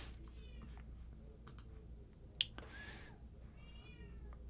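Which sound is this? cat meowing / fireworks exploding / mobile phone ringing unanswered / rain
cat meowing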